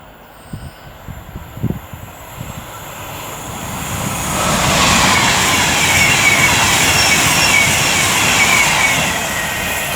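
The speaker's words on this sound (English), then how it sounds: "now approaching me 390010 for Avanti West Coast, working 1 Alpha 59 from Manchester Piccadilly to London Euston." An Avanti West Coast class 390 Pendolino electric train approaches and passes at Lichfield Trent Valley, a quiet rumble rising around halfway into a loud, close rushing roar of wheels and air that stays strong to the end.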